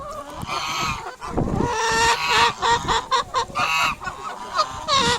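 Noisy honking and quacking from several waterfowl, close and overlapping, with harsh repeated calls throughout.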